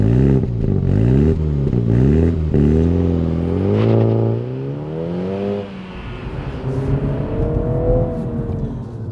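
A 2023 Mini John Cooper Works with a six-speed manual gearbox revs loud and close, climbing and dropping in pitch through several gear changes before settling into a steady drone. No one speaks.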